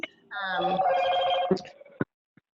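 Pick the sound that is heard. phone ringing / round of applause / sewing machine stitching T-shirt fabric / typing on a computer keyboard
phone ringing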